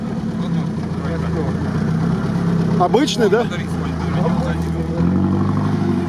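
An off-road UAZ engine fitted with a Mercedes compressor and injection, idling steadily with a low droning hum at close range while people talk over it.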